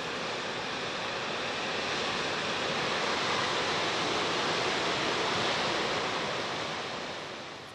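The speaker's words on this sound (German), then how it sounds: "Der Blick in die Tiefe enthüllt die Mackenzie-Wasserfälle." Mackenzie Falls in Australia roars as a steady, dense rush of falling water, loud and continuous throughout with no voices, swelling slightly at the start and easing toward the end.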